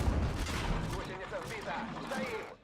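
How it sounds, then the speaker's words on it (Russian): Gunfire booms in a tank video game, heavy low blasts near the start followed by rumbling and mechanical clatter, with voices talking over the action. "Отличный выстрел!"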